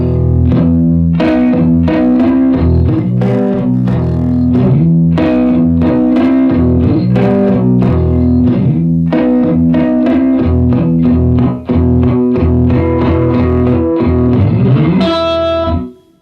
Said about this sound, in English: some gated reverb, and that's one of my favorite sounds with the 12 string